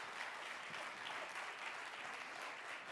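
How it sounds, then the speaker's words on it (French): Steady audience applause at the closing session of a national audiology college event, a continuous, even wash of many hands clapping, moderately distant and with no voices over it. "on va l'applaudir bien fort"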